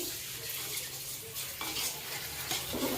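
Pulao stirs and fries in a pan, a close, continuous sizzle overlaid with scraping spoon strokes against the metal, with no voices.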